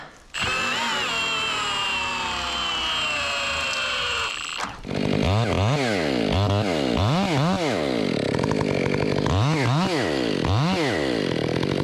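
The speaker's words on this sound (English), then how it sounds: "We open this side and do this kerf." A chainsaw cutting a kerf in a big cottonwood tree: a high revving whine first, then loud, close surging cuts that rise and fall in repeated rhythmic strokes as the chain bites into the wood.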